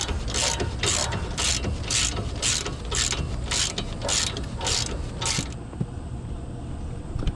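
A small ratchet tightens a sway bar link nut on a 2004–2010 Toyota Sienna, making about ten rapid close bursts of clicking that stop after a few seconds, followed by quieter handling noise.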